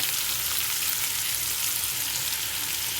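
Tomatoes and coriander sizzle in a pan for ridge gourd chutney, a steady, close frying hiss that runs unbroken through the whole stretch with no voices.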